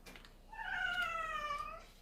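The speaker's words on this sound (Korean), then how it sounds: "저희 고양이가 또 애타게 우는데요." A house cat lets out one long, drawn-out meow indoors, close and clear, with a slightly falling pitch and no talking over it.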